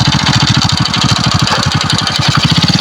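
A motorcycle engine running steadily in low gear, a loud, close, even throbbing idle with a fast regular pulse and no talk over it.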